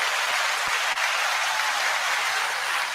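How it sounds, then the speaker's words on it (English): A crowd gives a round of applause on a live talk show, a steady, loud hiss-like wash of many hands clapping that holds evenly throughout. "I think we need another round of applause."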